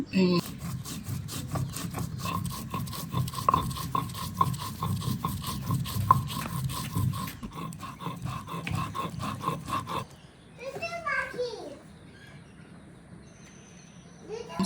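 Cumin seeds and a little garam masala are ground on a stone with steady back-and-forth rubbing strokes, a continuous gritty scraping for several seconds. It stops abruptly and leaves quieter background sounds.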